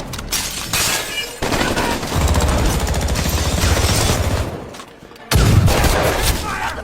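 Sustained bursts of film gunfire crackle densely and loudly for several seconds, with a brief dip near the end before another heavy volley.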